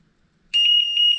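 A three-door interlock system's electronic alarm suddenly starts halfway through, a loud, steady high-pitched beeping tone with a slight pulsing rhythm, after near silence.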